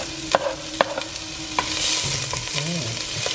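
Onion and garlic fry in a pan, a steady sizzle under a few clinking scrapes of a utensil stirring the pieces around.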